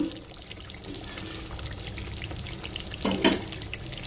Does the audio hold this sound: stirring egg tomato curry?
yes